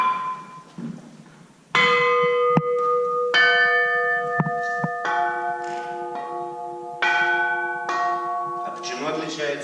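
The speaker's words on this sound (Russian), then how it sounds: "эти предметы называются колокола, и вот этой деревянной кияночкой ты можешь аккуратненько попробовать извлечь звук" Bronze bells struck one at a time with a small wooden mallet, each clear ringing tone with layered overtones sustaining and overlapping; about six strikes in steady succession, close and loud, with faint background talk.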